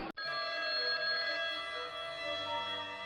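A landline telephone rings unanswered, its bright bell tone sustained and fairly loud for a few seconds after a sharp onset, alone without voices.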